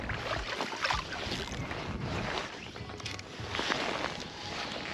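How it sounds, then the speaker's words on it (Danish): Strong wind gusting across a fjord during fly fishing for sea trout, roaring and buffeting the microphone in uneven surges, loud and close, with no talking. "De havde ikke lovet så kraftig vind."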